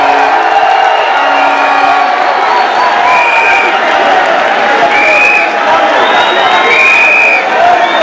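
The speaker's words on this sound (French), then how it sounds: "de bien vouloir applaudir la sortie du couple présidentiel." Large crowd applauding and cheering as the presidential couple leaves an event with the diaspora in Paris, a loud continuous roar of clapping with occasional whoops and shouts.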